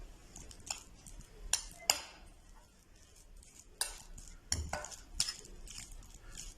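Butter being stirred with a spoon into a bowl of boiled egg and mayonnaise mixture, giving scattered soft scrapes and light clinks against the bowl, quiet and close, with no talking.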